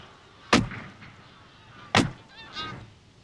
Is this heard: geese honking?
yes